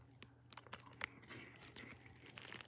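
Crunching on freeze-dried green apple Jolly Rancher hard candy, a close, quiet run of irregular brittle crackles and crinkles over a few seconds, with no speech.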